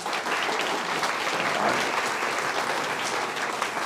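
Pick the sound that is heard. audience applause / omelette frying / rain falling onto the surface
audience applause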